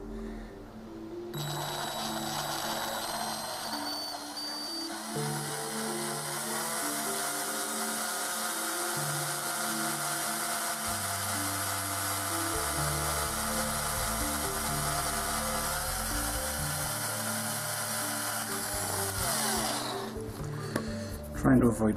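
A high, steady electric drill whine drilling pilot holes runs almost continuously for about twenty seconds, loud and close, with shifting low tones beneath it.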